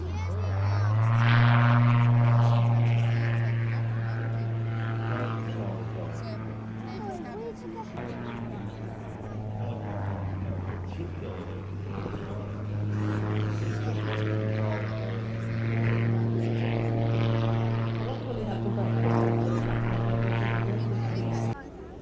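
A propeller aircraft does a touch and go at an air festival, its steady droning engine note holding loud and close for the whole stretch, with slight shifts in pitch as it passes.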